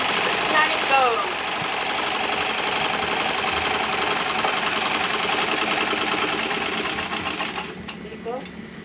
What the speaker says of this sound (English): I've sewn on that machine too when I was little